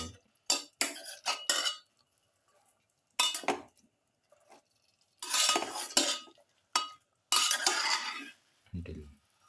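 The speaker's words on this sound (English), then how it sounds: "Mix thoroughly." A utensil clinks and scrapes against a pan or bowl in irregular bursts while pepper sauce ingredients are stirred into Japanese quail, close and fairly loud, with short pauses between strokes.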